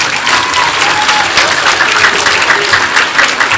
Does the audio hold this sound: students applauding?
yes